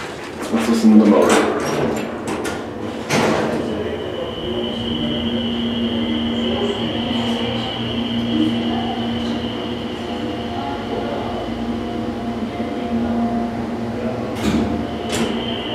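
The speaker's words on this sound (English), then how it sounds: "Let's listen to the motor." Garden State hydraulic elevator motor running in a wholesale liquidator store in Lodi, NJ: a steady mid-pitched hum with a high whine, opening with a few knocks and clunks before the drone settles, with another clatter near the end.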